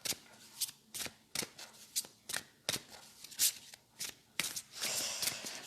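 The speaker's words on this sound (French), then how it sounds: "On va mélanger les cartes." Playing cards are shuffled by hand over and over, each riffle a quick crisp burst in a steady rhythm, close and fairly quiet, ending in a longer rustling shuffle.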